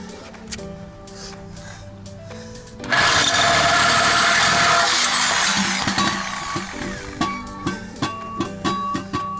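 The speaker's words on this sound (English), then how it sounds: "Sawzall blade is on. Make sure you get a metal cutting blade." A Sawzall reciprocating saw fitted with a metal-cutting blade cuts through a C7 Corvette exhaust pipe, a loud harsh buzzing rasp that starts abruptly after quieter clatter, runs steadily, then fades into a series of short knocks.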